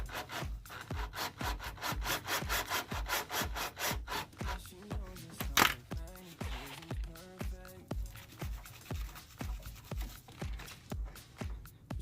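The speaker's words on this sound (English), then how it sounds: "You could even stick a brush in there." A brush scrubs dirt and grease out of the buttons of a semi-free-floating front brake rotor disk, making rapid, rhythmic rasping strokes close up, steady for about twelve seconds.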